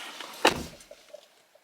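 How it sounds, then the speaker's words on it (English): A car door thumps shut once, a short sharp knock followed by faint rustling and small clicks, fairly quiet and heard on its own with no talking. "I've caught my hair in the door"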